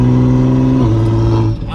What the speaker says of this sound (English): So amazing to be driving this car right now.